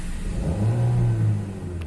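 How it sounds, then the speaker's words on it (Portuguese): A Renault Duster engine running on gasoline revs up, a steady low rumble swelling to a loud peak in the middle and then easing back, with no voices. "Agora eu vou dar um acelerão."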